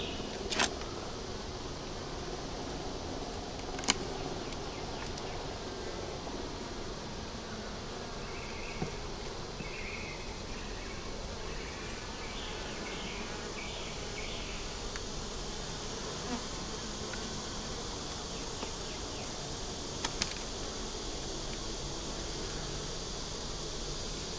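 Honey bees buzz steadily around an open nuc hive that is crowded with bees, a constant close insect drone with a few faint clicks and knocks and no voices.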